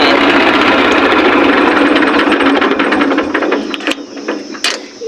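A tractor engine runs loud and close with a steady rumbling drone and mechanical rattle, then falters and sputters with a few clanks as it is being shut off.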